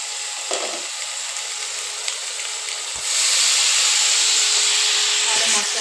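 Ground ginger and chili paste spices sizzle steadily in a hot pan, the hiss swelling louder and brighter midway as water is poured in, with soft clinks of a utensil near the start.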